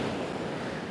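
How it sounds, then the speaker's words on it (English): Surf rushing onto the black sand beach at Vik, Iceland, in strong wind: a continuous broad wash of wave noise with buffeting wind, no voices. "I'm waiting for the perfect white foamy wave to come crashing up the beach"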